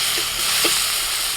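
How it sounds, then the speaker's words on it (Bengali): Onions sizzle and fry in a pan with chopped tomato, salt and a little turmeric powder, a steady close hiss with a couple of brief stirring scrapes, no voices. "পেঁয়াজটা ভেজে দিচ্ছি, টমেটো কুচি, একটু লবণ দিয়ে দিয়েছিলাম, এখন দিচ্ছি একটু হলুদ গুঁড়ো"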